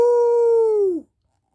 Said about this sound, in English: The barks echoed across the countryside to the Dalmatian plantation